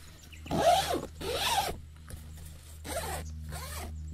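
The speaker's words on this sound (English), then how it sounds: "And we have a double zip here." A double zip on the door of a Naturehike Cloud Up 2 lightweight backpacking tent is pulled in four close, scratchy strokes, each a rising then falling rasp with short pauses between.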